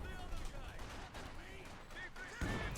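Battlefield gunfire in Company of Heroes 2 during a 1v1 match, with scattered small-arms shots and a heavier report near the end, fairly faint beneath a commentator's ongoing speech and in-game voices.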